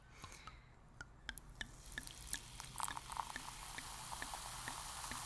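A bubbly drink is poured into a glass and fizzes, with a rising crackle of small popping bubbles and sharp clicks that builds steadily into a dense, close hiss, with no talking.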